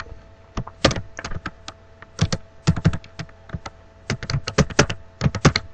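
Typing on a computer keyboard while writing HTML code, with bursts of close, crisp keystrokes in quick clusters separated by short pauses, no voices.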